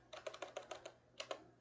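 Quiet, close clicking of computer keyboard keys, a quick run of about six strokes, a short pause, then two more taps.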